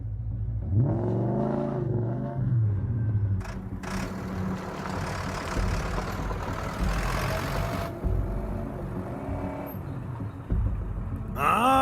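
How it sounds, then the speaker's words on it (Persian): A car engine revs as the accelerator is pressed, a close, loud, low roar that climbs and falls in pitch, with a few revving pulses across the clip. "گاز بده. گاز بده. خوبه، خاموش کن."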